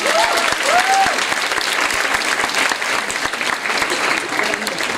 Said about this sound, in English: A round of applause for their accomplishment.